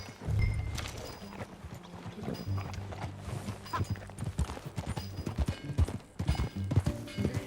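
Horse hooves clip-clopping in a steady rhythm with a short whinny, from Red Dead Redemption 2 gameplay, close and loud against game ambience and music, no talking.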